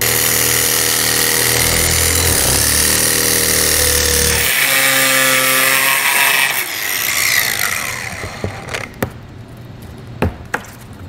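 A power tool cuts through a plastic bumper fascia on a 2012 Subaru Outback for a trailer hitch install, loud and close with a harsh grinding rasp that drops off midway, followed by scattered clicks and snaps.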